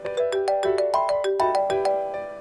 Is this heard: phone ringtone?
yes